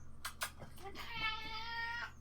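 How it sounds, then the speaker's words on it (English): A single drawn-out cat meow sounds close by after a couple of soft clicks, quiet overall. "my cat saying hello."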